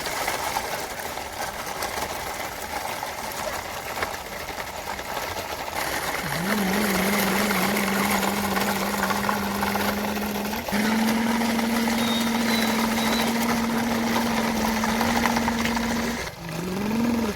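A tractor-pulling dumper's engine runs steadily with a droning hum, then settles into a higher sustained tone that holds for several seconds before a brief dip near the end, with no voices.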